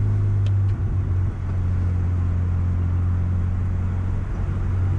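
Tractor-trailer truck rolling nearby on the road, heard as a steady low engine drone and rumble from inside a moving car, continuous and moderately loud with no talking.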